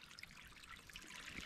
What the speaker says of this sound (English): is collecting water from this little spring